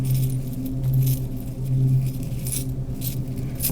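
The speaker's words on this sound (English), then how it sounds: "cast your charms and your dice" Small charms and dice rattle together in a cupped hand for a fortune-telling yes-or-no reading, a steady close-up jangling with a few brighter clicks as they are shaken and cast.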